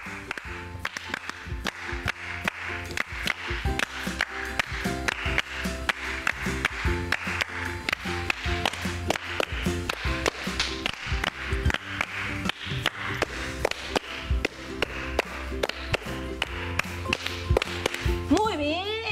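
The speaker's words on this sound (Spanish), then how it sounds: "Intentamos hacer ritmos con esas palmas." Hands clap in steady rhythmic patterns during a primary-school home lesson, crisp repeated claps continuing throughout, with a voice speaking over the clapping at the close.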